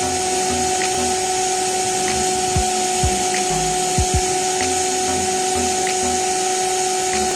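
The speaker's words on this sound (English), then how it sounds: "create a perfect and strong vacuum that will dislodge anything blocking or clogging the drain hose" A vacuum pulls on a clogged air-conditioner drain hose, giving a steady high whine with a few low thumps and gulps midway as the blockage shifts.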